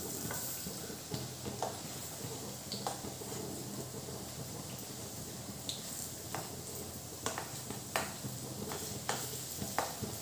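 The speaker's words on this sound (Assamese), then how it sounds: "এতিয়া পকৰিকেইটা আমি লৰাই দিম" Vegetable pakoras sizzle steadily in hot oil in a pan while a spoon stirs them, with soft scraping clicks and occasional sharper taps over the continuous frying hiss, close and moderately quiet.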